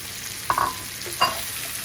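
Onions and peppers frying in spices in a pan give a steady, soft sizzle, broken by two brief clinks of stirring.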